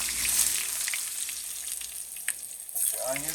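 Onions hitting a hot pan with pork chops for smothered pork chops on low heat, a steady close crackling sizzle with a few sharper pops and a brief scrape near the end.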